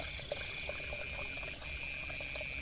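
Steady flowing water runs continuously through a rice field channel, a constant rushing wash with a faint high whine over it, with no talking.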